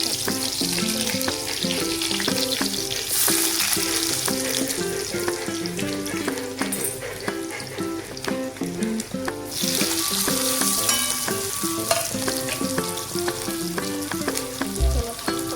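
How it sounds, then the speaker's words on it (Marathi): Onion, green chili and tomato sizzle and fry in hot oil with cumin in a heated kadhai, a steady loud crackle running throughout with occasional stirring scrapes. "कांदा मिरची टोमॅटो हे तेलामध्ये गरम तेलामध्ये टाकूया"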